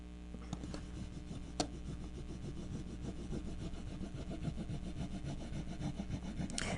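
Quiet steady rubbing and scraping as a transfer is pressed onto a painted wooden tiered tray, a continuous close-up friction sound with one small knock and no talking.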